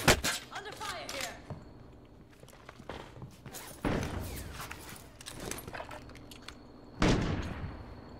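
Gunfire in a video game on an ice field, several sharp shots and short bursts at irregular intervals, a few loud cracks standing out from quieter distant fire, with voices talking over it.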